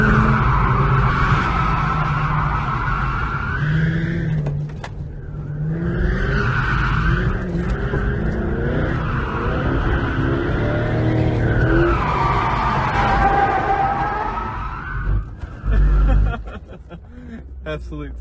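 A C5 Corvette drifts and spins out, its tires skidding in long, loud, wavering squeals over the engine roar, while a person chuckles and talks in the car.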